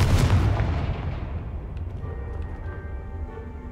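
A Confringo explosive spell from the Hogwarts Legacy video game bursts loudly in a single blast whose rumble fades away over a few seconds, with no talk.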